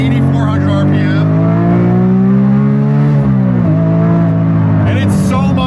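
A Porsche 997 GT3 RS with its 3.8-liter flat-six Mezger engine holds a loud, steady high-pitched howl that sags in pitch around the middle and again shortly after before settling.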